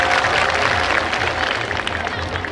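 Audience applause fills a large outdoor annual function ceremony for an FM radio station in Nepal, a steady loud wash of crowd clapping and cheering with a low rhythmic thump of music or drums underneath.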